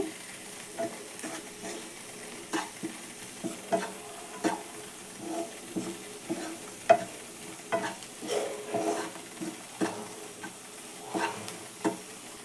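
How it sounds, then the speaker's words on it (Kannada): Chili, coriander and turmeric powders frying in oil for a dhaba-style mushroom gravy: a steady close sizzle with repeated scraping stirs of a spoon in the pan, no voices. "ಖಾರದ ಪುಡಿ ಧನಿಯಾ ಪುಡಿ ಮತ್ತು ಅರ್ಶಿನದ ಪುಡಿ ಎಣ್ಣೆಲೇ ಫ್ರೈ ಮಾಡ್ಕೊಳ್ಳೋದ್ರಿಂದ ಕಲರ್ ತುಂಬ ಚೆನ್ನಾಗಿ ಬರುತ್ತದೆ"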